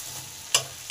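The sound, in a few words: spices being sautéed (kosha) in a pan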